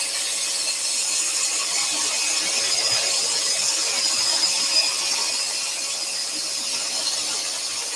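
A scroll saw cuts a wooden lantern workpiece, its blade teeth working all the way around the cut. The whine is steady, close and continuous, with a faint high squeal throughout and no talking.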